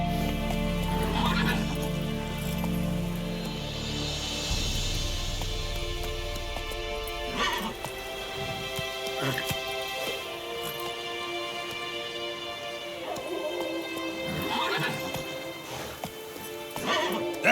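Roach, a horse in The Witcher 3: Wild Hunt, with hoof clops and whinnies over game music and ambience, neighs breaking through at intervals and a rumbling rush in the opening seconds.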